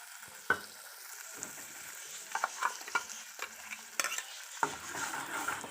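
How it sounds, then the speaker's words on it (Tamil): Masala for banana flower curry sizzling in a pan while a spoon stirs it, with faint frying hiss and scattered scraping clinks against the pot. "மசாலா ஊற்றி நல்லா மிக்ஸ் பண்ணிக்கோங்க."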